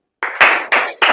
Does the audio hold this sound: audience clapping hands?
yes